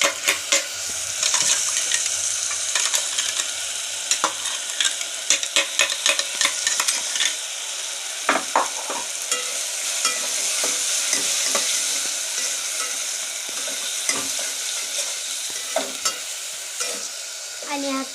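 Ginger garlic paste and tomato paste fry and sizzle in a pan for biryani while a spoon stirs them with frequent scraping clicks, a steady close hiss throughout, no voices.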